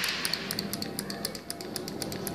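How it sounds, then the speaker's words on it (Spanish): Fuel injector pulsed by a push button on a workbench, giving a quick series of sharp, close metallic clicks in an irregular tapping rhythm. "Este inyector, cuando suena así, ¿qué nos está indicando? Que está bien de la bobina."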